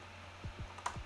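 Soft, close taps on a computer keyboard while typing into a search bar, three or four light keystrokes over a quiet room hum.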